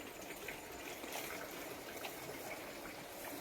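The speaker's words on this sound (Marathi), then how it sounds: "तिकडं पाणी भरायचं चालू आहे टिपाडात" Steady rushing water pouring into a plastic drum, a continuous broadband gush with no pauses, fairly close.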